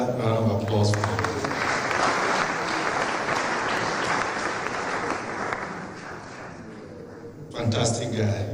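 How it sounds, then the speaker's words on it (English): Audience at the launch event of Ghana's Memory of the World Register applauds in a loud, dense round of clapping that eases off, after which a speaker starts talking. "Another round of applause for you."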